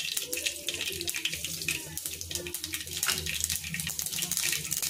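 Mustard seeds hit hot oil in a pan, crackling and spitting in quick sharp pops close by, with a voice murmuring underneath.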